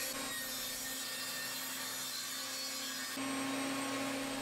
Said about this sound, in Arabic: ترجع بقى لمنشار الطاوله اول حاجه هننضف طرفها ونسويه